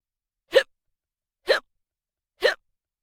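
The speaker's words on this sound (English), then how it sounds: "hiccup" Three separate hiccups, evenly spaced about a second apart, each a short sharp vocal catch heard close and alone against silence.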